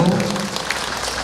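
A crowd at a Parents' Day event claps together, a short burst of applause that fades to scattered claps.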